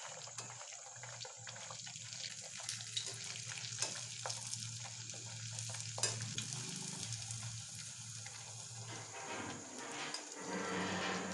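Panipuri puris frying in hot oil give a steady, close sizzle, with bubbling surges as dough rounds are dropped in one by one and pressed so they puff.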